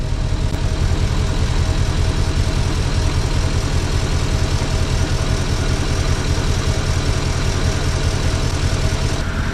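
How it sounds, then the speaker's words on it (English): A Porsche car engine idles with the motor running during a fluid-filling job, giving a steady, loud, continuous low rumble that lasts the whole stretch without talk. "with the engine running, we're going to pump it full of fluid until it runs out again"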